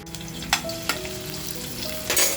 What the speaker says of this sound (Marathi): तेल टाकते. आपण जो कांदा कापून घेतलाय तो टाकूया.